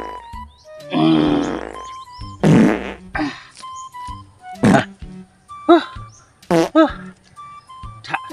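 A voice making playful fart noises, a long buzzing raspberry followed by several short sputtering bursts separated by brief pauses, close and fairly loud.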